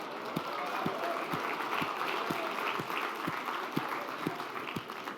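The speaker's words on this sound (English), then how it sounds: "stand up if you guessed it correctly for a round of applause" An audience applauds steadily, a dense wash of clapping punctuated by regular low thumps about twice a second.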